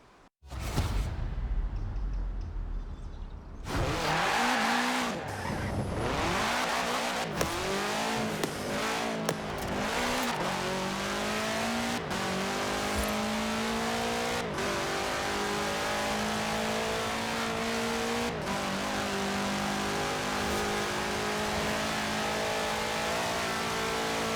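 A Forza Horizon 4 car fitted with a 2.5-liter F4 turbo engine roars and revs hard, its note climbing and dropping through repeated gear changes, loud and close for a long sustained run.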